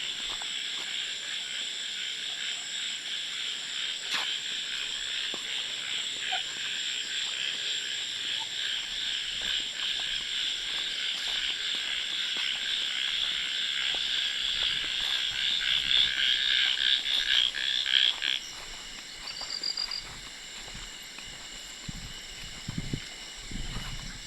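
Dense chorus of insects and frogs trilling through a forest at night, a steady loud high buzzing that swells and then drops off near the end, with a few faint knocks beneath.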